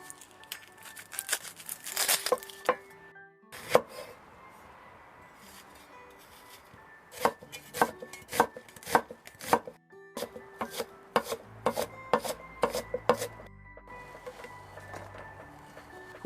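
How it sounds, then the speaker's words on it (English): Spanish onions are chopped with a knife on a board in bursts of sharp, close taps, fast runs of strokes broken by short pauses, alone without talk. "I'm gonna chop them out and put them in here to marinate my meat."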